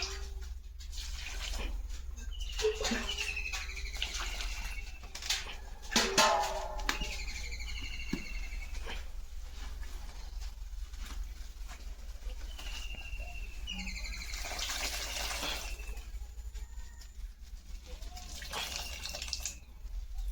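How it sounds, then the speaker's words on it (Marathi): Taroti leafy greens being washed in water, with splashing and swishing of water in bursts, birds cooing and calling in the background, and a low steady hum underneath. "आता या भाजीला मी धुवून घेते पाण्याने स्वच्छ।"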